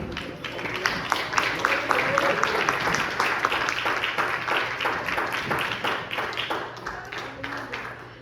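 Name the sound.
congregation applauding in church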